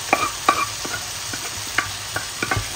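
Tomato and eggplant being stirred and fried in a pan, with a steady sizzle under repeated sharp spatula scrapes and clinks, close up and with no voices.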